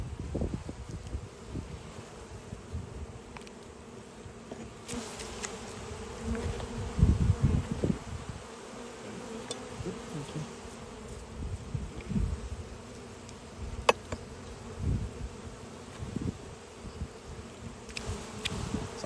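Honey bees buzzing around the hive while honey is pulled, a steady close droning hum with passing bees swelling louder now and then, plus occasional rustles and handling knocks.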